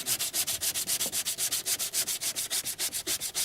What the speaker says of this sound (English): Well, let me get sanding.